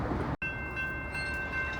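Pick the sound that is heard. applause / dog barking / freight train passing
freight train passing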